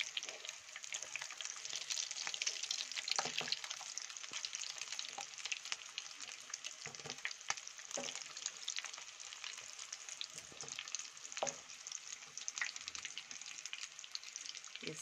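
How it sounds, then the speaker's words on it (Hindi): Potato and egg kofta balls frying in oil in a pan after being turned over, giving a steady, close hiss and crackle throughout with occasional stirring and scraping clicks, no talking. "उल्टा कर देती हूँ सबको, उल्टे साइड से भी फ्राई कर लेती हूँ।"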